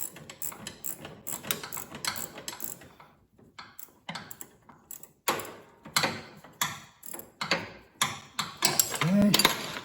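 A ratchet works a nut on the steering gear of a John Deere X570 lawn tractor, making close, repeated clicking pawl bursts in uneven strokes with short pauses between them.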